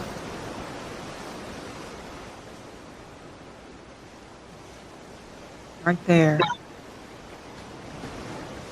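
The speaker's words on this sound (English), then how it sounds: "Watching the waves." Soft ocean waves wash on shore at sunset in a steady, hushed broadband rush that holds throughout, briefly interrupted by a short spoken phrase near the middle.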